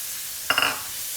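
Sliced onion goes into olive oil in a hot skillet, with a short burst of sizzle and stirring about halfway through. It rises quickly against a faint background hiss and then fades.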